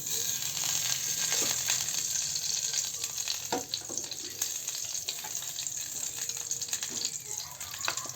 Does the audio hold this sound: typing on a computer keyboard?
no